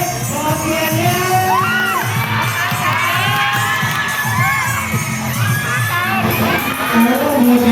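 A crowd of students cheers loudly at a school recycled-costume fashion show during a science fair, with children shouting, whooping and screaming continuously over a dense, reverberant hall roar.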